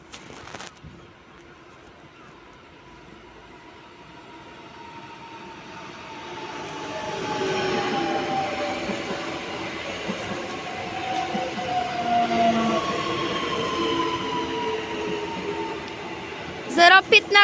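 An Impuls 2 train arriving at Sopot railway station in Poland: a low rumble that swells over several seconds into a sustained rolling roar with metallic squeals, then sharp clanks right at the end.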